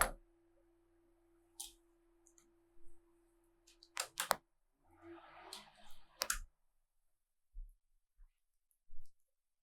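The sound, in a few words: scissors cutting a thin piece of paper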